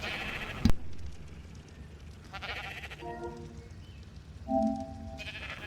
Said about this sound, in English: so the sheep are about to give birth